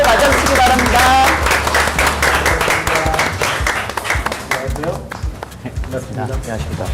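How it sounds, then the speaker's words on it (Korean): An audience applauding to welcome a prime minister entering a hall, with steady clapping heard under loud speech and music at the start, then fading into scattered claps. "따뜻한 환영의 박수를 맞아주시기 바랍니다"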